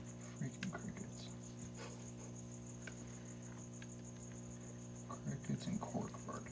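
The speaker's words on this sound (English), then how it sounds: "Freaking crickets." A constant high cricket chirp rings through a quiet room, with faint soft shuffling and a few low murmurs near the start and end.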